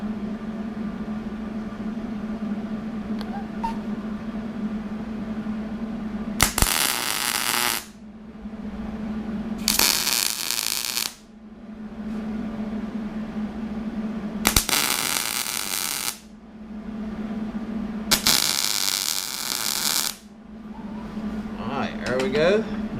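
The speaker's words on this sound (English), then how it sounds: "Center the hinge up on the gap. And we'll go ahead and tack it in place." Tack welding a steel hinge onto a folding box anchor: four separate bursts of harsh, crackling arc welding, each lasting one to two seconds, stand out loudly over a steady electrical hum between them.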